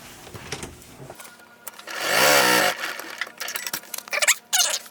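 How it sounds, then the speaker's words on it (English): A sewing machine runs briefly while stitching quilt fabric pieces, a short rising whir in the middle amid handling clicks and rustling, heard up close without speech. "this time I'll sew from this end and stop there"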